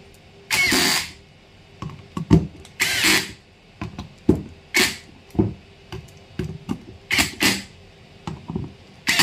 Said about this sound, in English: So I'm going to tighten all the screw now.